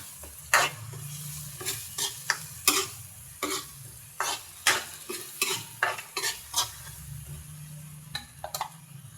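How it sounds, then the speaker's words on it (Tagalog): A spoon scrapes and knocks repeatedly in a rhythmic stir through bagoong alamang (fermented shrimp paste) sizzling in a pan, steady frying hiss beneath the close, regular strokes. "Saka halo-haloin lang natin."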